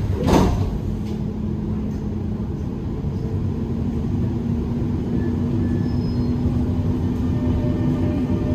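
Dubai Metro Green Line train with a sharp door thud at the start, then a steady loud rumble and hum of the carriage running, a faint tone lingering under the noise.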